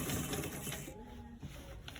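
A sewing machine stitches elastic onto a waistband, a close rapid mechanical chatter that runs, slows briefly, then resumes in short bursts.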